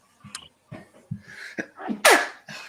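A sharp, loud sneeze preceded by a few short sniffing inhalations, close to the listener, with no talking.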